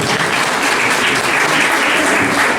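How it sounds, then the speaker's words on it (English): A crowd applauds steadily, a dense wash of clapping hands that holds at an even, loud level throughout. "Please give him a big applause."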